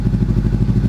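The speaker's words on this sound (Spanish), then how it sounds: "Vale, ahora sí, vamos a encenderla. A escape libre" A motorcycle engine running with an open, free-flow exhaust and no baffle, giving a loud, steady low rumble with a rapid pulsing beat throughout the short stretch.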